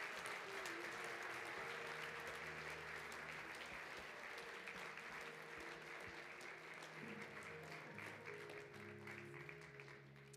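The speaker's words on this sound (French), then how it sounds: "pendant que nous, on vous donne une bonne main d'applaudissements" Church congregation applauding steadily and loudly for about ten seconds, a dense wash of claps with faint crowd murmur and low tones underneath, fading slightly toward the end.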